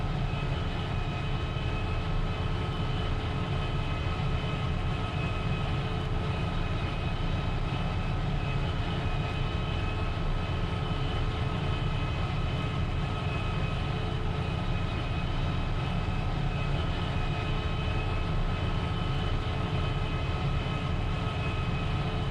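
A John Deere 8820 combine with a 12-row corn header harvests corn in Farming Simulator 19, its engine a steady, unbroken drone that holds at the same loudness throughout with no talk.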